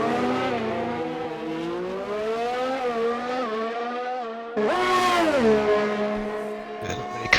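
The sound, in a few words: race cars driving on track in racing video game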